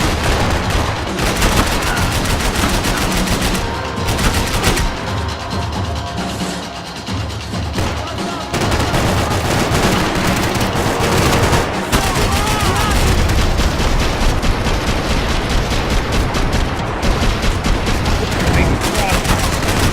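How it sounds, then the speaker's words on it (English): Dense gunfire in the action game Max Payne 3, loud sustained bursts of automatic shots with bullets whizzing past, near and relentless, with shouted voices mixed into the chaos of the firefight. "I can't concentrate with bullets whizzing past my head"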